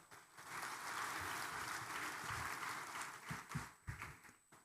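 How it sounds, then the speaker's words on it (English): Graduation ceremony crowd applauds in a large hall, a soft, somewhat distant wash of clapping that swells and then thins, with a few sharper thumps and handling noises near the end. "Everybody put your hands together and give them a round of applause."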